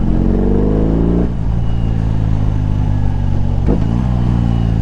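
A BMW R18 motorcycle engine revs loudly and up close, rising in pitch, dropping off, then blipping again in a short second rev over a deep, throbbing idle.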